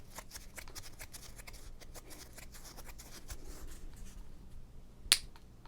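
Old gum from a 1989 Topps card pack is handled and cracked up close, giving soft crinkly rustles and one sharp, bright snap near the end.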